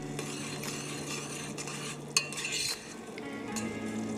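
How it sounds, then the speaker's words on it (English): Beans seasoned with cumin, black pepper and oregano are mixed in a pan with a spoon, soft scraping and stirring over a low sizzle, with one sharp utensil clink midway. "black pepper, and a little bit of oregano. Mix it all well."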